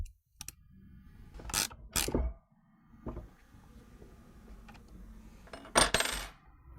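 Metal hardware clinks and ratchets while a nut and lock washer are tightened on a Jeep Cherokee cold air intake bracket, a few close, loud clanks and clicking bursts separated by quieter gaps.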